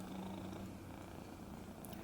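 A cat purring loudly up close, a continuous low rumbling drone throughout with no voices.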